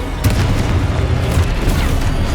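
A Confringo explosion spell goes off in Hogwarts Legacy, a loud, deep, rumbling boom that fills the moment with low, sustained blast energy.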